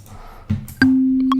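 A single sustained synth note from an Ableton Wavetable MIDI clip, entering sharply with a bright attack and holding steady and loud to the end, preceded by brief clicks and mouse sounds.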